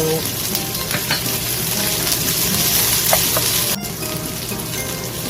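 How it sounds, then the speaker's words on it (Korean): Garlic and cheongyang chili peppers stir-fry in a hot pan, giving a continuous loud sizzle with scraping stirs and a sharp utensil clack near the end. "마늘을 조금 볶이면 청양고추를 넣고 볶으겠습니다"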